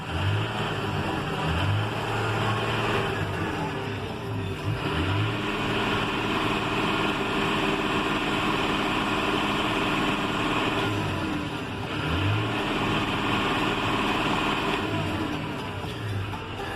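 A John Deere 6150M tractor's diesel engine idles steadily nearby with a low throbbing rumble, occasionally swelling slightly, no voices.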